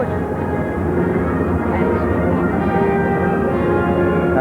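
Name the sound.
military aircraft flying overhead in air display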